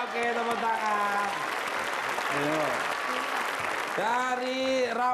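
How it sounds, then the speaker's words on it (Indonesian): A studio audience on a game show claps steadily throughout, with a host's voice talking loudly over the applause. "Oke, tepuk tangan."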